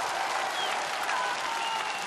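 A large concert crowd at a Berlin performance of wartime songs applauds in a continuous dense wash of clapping, with a few faint whistles over it.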